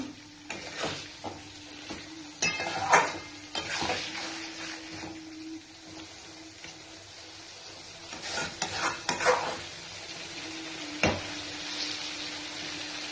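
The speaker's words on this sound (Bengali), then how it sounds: "এবার এই মাছটা পুরো মশলার সঙ্গে ফ্রাই হবে ধীরে ধীরে" Prawns fry with masala in a pan over a raised gas flame, giving a constant close sizzle. Irregular stirring scrapes and clatters come in bursts, with a sharp knock near the end.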